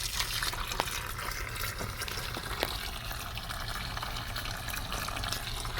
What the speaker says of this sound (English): That's the valve I've got to open up to drain any water that might still be in there.